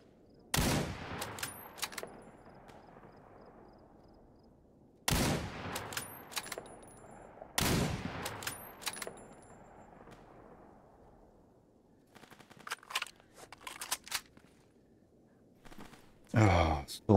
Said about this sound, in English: I can hear someone firing